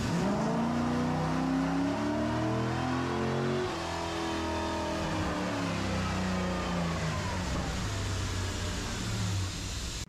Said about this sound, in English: I finally got the Corvette out on the road and driving.